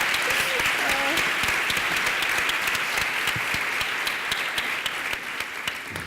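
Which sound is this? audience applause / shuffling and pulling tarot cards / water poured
audience applause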